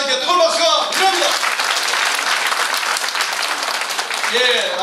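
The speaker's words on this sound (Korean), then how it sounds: "우리 진행을 총 진행해 주신 크람 문금사사님께 뜨거운 박수가 필요합니다." Seminar audience applauding, a dense wash of many hands clapping steadily throughout, with a voice speaking over it at the start and end.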